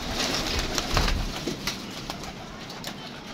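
Pigeons coo softly in the background amid a flutter of wings and light rustling as grain is scattered for them, with faint ambient noise throughout.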